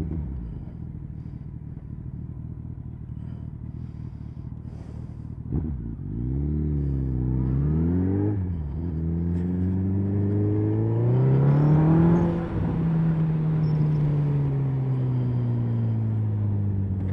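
A Suzuki Hayabusa motorcycle engine idles and then revs up and down with rising and falling pitch, running steadily and close by with no talking.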